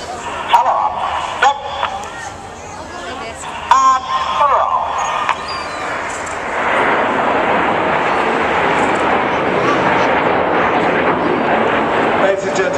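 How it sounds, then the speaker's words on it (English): Red Arrows jets flying a victory roll with red, white and blue smoke during a Battle of Britain veterans salute, heard as a broad, steady roar that swells midway and holds loud to the end over earlier scattered crowd noise. "the pilots are going to fly with red, white and blue smoke the victory roll"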